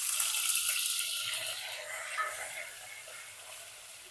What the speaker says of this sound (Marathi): तेल आता चांगलं गरम झालेलं आहे आता आपण ही कांद्याची पेस्ट जी आहे ती त्याच्यामध्ये घालून घेऊया